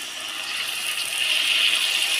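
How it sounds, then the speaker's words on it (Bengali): Water poured from a bowl into a cooking pan while a banana and potato curry cooks, a steady continuous hiss and gush that builds slightly, close and alone with no talk. "বাটিটা দিয়ে অল্প একটু জল দিয়ে দেবো"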